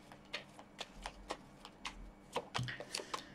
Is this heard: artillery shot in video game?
no